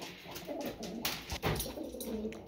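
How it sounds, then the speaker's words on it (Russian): A pet pigeon, a rescued domestic bird kept indoors, coos in a steady low murmuring run close by, with soft repeated throaty pulses and brief louder swells. "Это голубь, которого осенью прошлого года моя супруга нашла."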